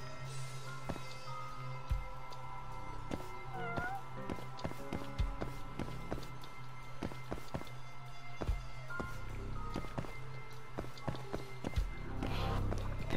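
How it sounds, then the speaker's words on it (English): In the Judgment video game a cat meows softly a couple of times amid game background sounds, with footsteps and scattered taps throughout. "Oh, there's a cat."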